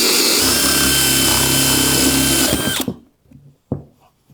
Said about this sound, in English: This is the 3/4 inch Bosch Daredevil spade bit. We're gonna drill right through this 2x4.